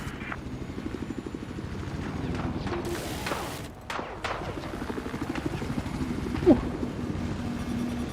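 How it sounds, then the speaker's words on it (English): A hostile helicopter's rotor thrums steadily in Battlefield 4, with scattered gunfire and explosions breaking over the drone and some talk mixed in. "I've spotted a hostile helicopter due west of your current position."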